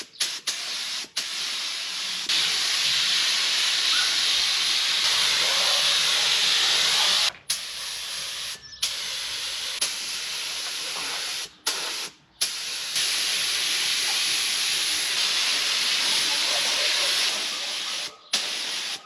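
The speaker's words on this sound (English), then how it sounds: "We've got our calipers sprayed in with undercoat." Spray gun applying U-Pol primer undercoat to AMG brake calipers from a Mercedes-Benz W205 C450 AMG, a loud steady hiss in long bursts broken by several brief pauses, with no talking.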